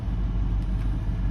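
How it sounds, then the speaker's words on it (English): A 1987 Cadillac Allante's engine runs steadily with an exhaust leak, a dense low rumble heard up close that holds level for about a second and a half, with no voices. "I started it up. I want to show you guys underneath the hood there, the exhaust leak"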